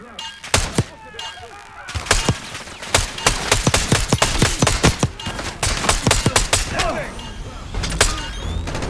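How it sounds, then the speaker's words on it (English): Rapid gunfire exchange in the Black Ops 6 shooter campaign: dozens of sharp, loud shots crack in irregular bursts, some close and some trailing, across the whole stretch, with voices speaking intermittently amid the firefight. "Exchanging fire!"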